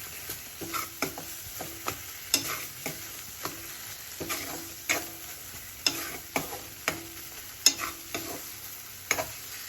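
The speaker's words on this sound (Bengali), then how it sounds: "যে জলটা বা তেলটা আছে সেটা যাতে শুকিয়ে যায় তার জন্য ভালো করে এটা আমি নাড়িয়ে নিচ্ছি" Spice paste frying in oil while being stirred, steady sizzle under regular, close scraping strokes of a spoon against the pan, repeated about every half second throughout.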